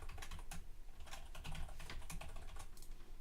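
Rapid keystrokes typing a password on a computer keyboard, a quick irregular patter of light clicks that runs close and clear throughout with no voices.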